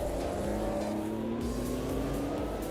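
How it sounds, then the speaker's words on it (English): Race car engine in the Automobilista 2 sim racing game holds steady, droning revs with a rising pitch, a continuous loud mechanical hum with no speech over it. "You can hear from the revs and the wheel spin that didn't happen."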